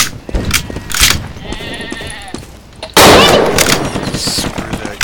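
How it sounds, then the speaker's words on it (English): A goat bleats amid bursts of gunfire in the dinosaur shooter game Dino D-Day, with loud, close shots and rapid fire swelling over the bleating and a voice briefly heard. "That was a goat!"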